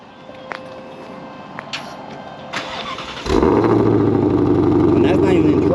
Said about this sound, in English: So the exhaust on this car sounds amazing.